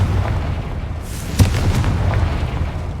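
Confringo blast spell exploding in Hogwarts Legacy on PS5, a single sharp burst followed by a rolling low rumble beneath ambient game noise, with no talk.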